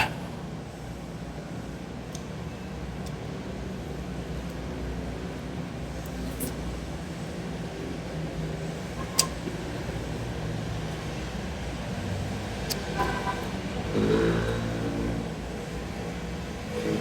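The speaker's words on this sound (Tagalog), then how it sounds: "Medyo maingay lang sa daan." Street traffic drones in a steady rumble while commuting, with passing cars and an engine revving nearby, a few sharp clicks and a brief swell of louder vehicle noise near the end.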